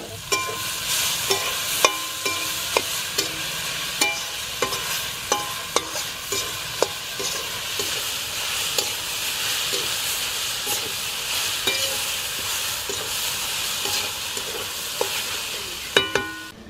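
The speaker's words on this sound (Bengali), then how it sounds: "এবার আমি এই সিদ্ধ করা ডাল আর শাকটা দিয়ে দিচ্ছি।" Boiled lentils and drumstick leaves, added to fried onions in a village kitchen pan, sizzle steadily while a spatula scrapes and taps the pan in a loose rhythm, close and with no voices.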